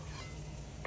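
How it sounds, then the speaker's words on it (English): Soft, steady sizzling of shallots frying in a pan, a quiet crackle without any voices. "We're gonna add our shallots, get that good sizzle."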